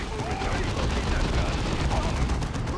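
Heavy bolters lay down sustained suppression fire in the Dawn of War II strategy game: a dense, continuous rattle of gunfire with booming impacts, steady and loud throughout, with speech faintly underneath.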